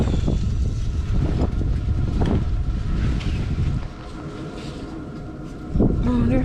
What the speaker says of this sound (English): Brr, the wind.